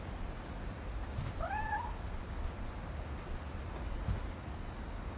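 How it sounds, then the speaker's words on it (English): A cat meows in the video game What Remains of Edith Finch, a single short rising meow over a quiet, faint background hiss, with no talking. "That is a cat."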